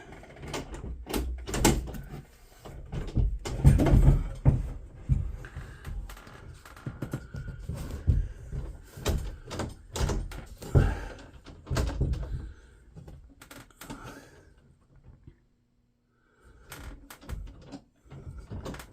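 A pocket door rolls along its overhead slide track, with repeated short rumbles, clunks and knocks from the hardware as it is worked back and forth, fairly close, then a brief quiet gap near the end.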